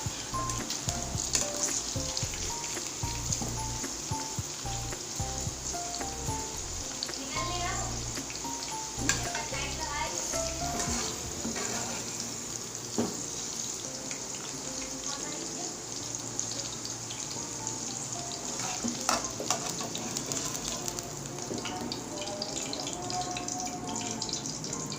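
Okra (bhindi) frying in oil in a pan, a loud, steady crackling sizzle with bursts of popping and stirring scrapes, close up and sustained throughout.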